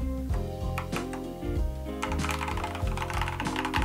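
An Akko Gudetama 5108S mechanical keyboard being typed on, a quick run of close, crisp key clacks with uneven rhythm over a faint background hum.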